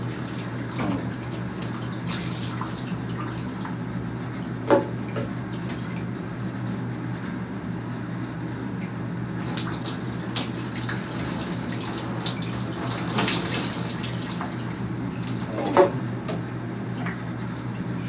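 Water pours from a pot over a body in a bath, a steady splashing stream running unbroken for the whole stretch, close and fairly loud, with a few brief sharper splashes and no voices.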